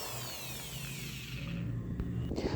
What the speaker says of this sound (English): You can drill roughly 12 to 16 holes in it as shown here.